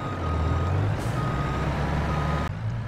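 A vehicle in Farming Simulator 22 reverses to hitch a trailer, its steady reversing beeper pulsing over a low, constant engine drone, close and moderately loud.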